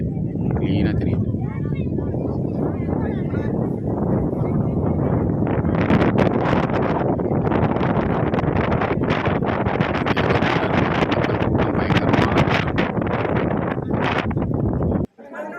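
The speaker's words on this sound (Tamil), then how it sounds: "நல்லா காற்றடிக்குது." Strong wind on an open hilltop above a dam, roaring steadily into the microphone as loud, continuous buffeting that swells and gusts throughout.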